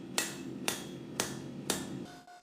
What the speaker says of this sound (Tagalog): Ang madalas kong gamit na martilyo ay 4 na libra na doghead mula kay Ilya